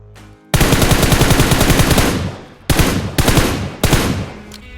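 Automatic rifle fire in PUBG Mobile, a Mini14 on auto: a long loud burst of rapid shots followed by two shorter bursts, close and sharp with no talk.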